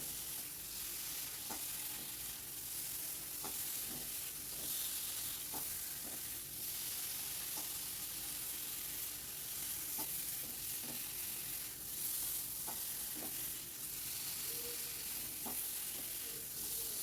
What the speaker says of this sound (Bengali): দিয়ে এবার একটু ভালো করে কষিয়ে নিয়ে জল দিয়ে দেবো